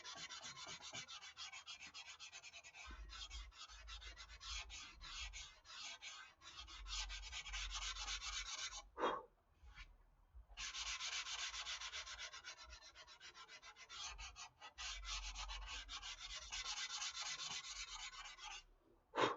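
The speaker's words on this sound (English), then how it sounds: "all I'm sanding right now is the primer and the foam, the bare foam" Sanding primer and bare foam during a foam repair, with steady close rubbing strokes that continue for long stretches, separated by a few brief pauses, and no voices.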